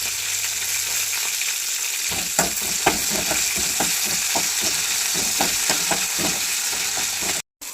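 Garlic, cumin and green chillies fry in oil in a pan, giving a loud, continuous sizzle with frequent sharp pops and crackles. The sound cuts out briefly near the end.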